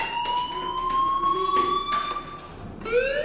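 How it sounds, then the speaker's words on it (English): A fire alarm in the video game Life Is Strange wails with a sustained electronic siren tone that sweeps and repeats, moderately loud with no voices over it. "do you hear that fire alarm? That means you should be outside."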